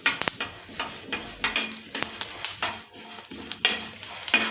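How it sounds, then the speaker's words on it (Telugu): Sorghum grains roasting dry in a pan while they are stirred steadily, giving repeated metallic scrapes and clinks of the utensil against the pan in an irregular rhythm, close and moderately loud, with no talking. "మంచిగా కలుపుకుంటూ వేయించుకోవాలి బాగా"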